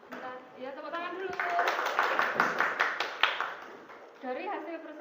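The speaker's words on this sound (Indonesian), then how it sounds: "Ya, tepuk tangan dulu." Classroom clapping in a school lesson, a burst of students' hands clapping loudly for about two seconds between voices, with speech before and after.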